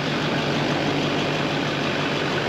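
A Duramax diesel truck engine, on a 2006–2010 GM/GMC pickup, idles steadily with a constant low rumble and clatter, close and loud, with no talking.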